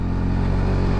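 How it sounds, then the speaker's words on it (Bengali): A motorcycle engine labors in low gear up a steep mountain road toward Keokradong in Bangladesh, giving a loud, close, steady droning rumble. "বাইকের পাওয়ারই পাচ্ছে না।"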